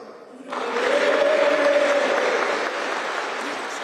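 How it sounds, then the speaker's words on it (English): A crowd at a mayoral election count bursts into cheering and steady applause as the result is declared, loud and sustained after a brief quiet start. "big cheer there for Ben Houchin"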